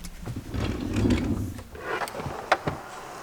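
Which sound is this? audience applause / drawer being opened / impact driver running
drawer being opened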